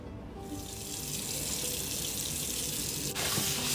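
Tap water runs steadily into a sink as goat meat is rinsed under it for adobong kambing, a continuous close hiss with a brief splash shift near the end.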